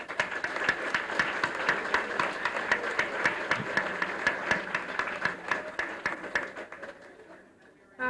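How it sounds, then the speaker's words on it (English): A banquet audience gives a sustained round of applause in a hall: dense, steady clapping that holds at an even level, then thins out and fades near the end. "We could give him a round of applause"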